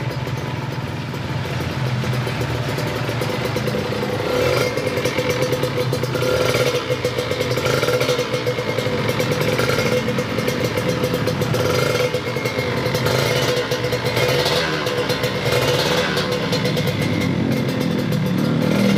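A Kawasaki Ninja RR two-stroke motorcycle engine runs steadily close by, with a rattling, knocking clatter from a worn, loose cylinder block under its continuous drone.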